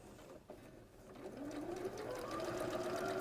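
A sewing machine stitches a quarter-inch seam on a quilt, a quiet steady whirring hum that builds after a brief start and keeps running evenly, faint and continuous.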